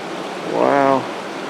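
A trout creek flows in a wooded campground with a steady, even rush of water. Partway through, a brief hum-like vocal sound rises over it.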